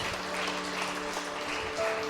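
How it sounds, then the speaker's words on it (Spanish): A church congregation claps in sustained, dense applause during a service, with steady sustained tones running faintly underneath. "Dale un aplauso fuerte al Espíritu Santo de Dios."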